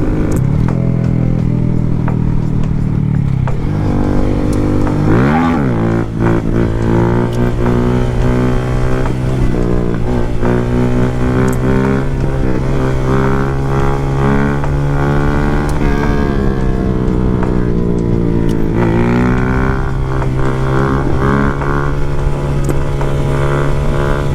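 A Honda Grom motorcycle set up for stunts and wheelies, engine loud and close while riding, revving up and down through the gears with throttle swells and drops, steady mechanical drone between revs.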